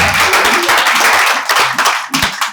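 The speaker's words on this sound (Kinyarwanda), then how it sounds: "Nimukomere Imana amashyi kuba." A crowd claps and applauds loudly and continuously, dense overlapping hand claps that thin out slightly toward the end.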